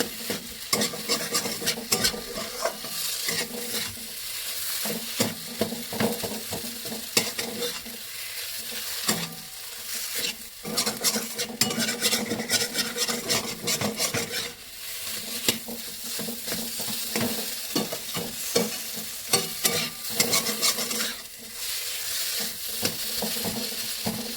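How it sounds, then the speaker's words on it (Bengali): A spatula breaks up fried egg in sizzling masala in a pan for a pointed gourd and egg korma. Constant close frying hiss is punctuated by dense, rapid scraping and chopping taps. "কুঞ্চি দিয়ে একটু ভেঙে ভেঙে নেবো"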